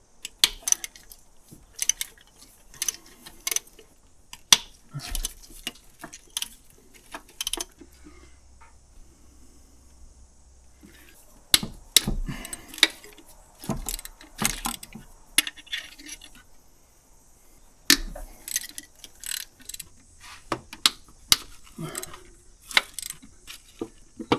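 Metal clinks and rattles of a socket working bolts off the inlet manifold of an Isuzu 4JJ1 engine, scattered close taps in irregular bursts separated by brief quiet pauses.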